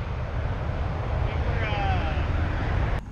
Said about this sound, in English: Two planes at once.